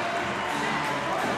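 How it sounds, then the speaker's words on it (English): An arena crowd at a women's volleyball match between Ohio State and Maryland at the Covelli Center, on its feet cheering in a steady, dense roar that fills the space. "everyone in the Covelli Center is up on their feet cheering"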